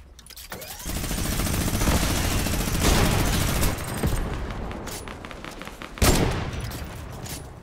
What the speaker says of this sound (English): The underwater minigun noise.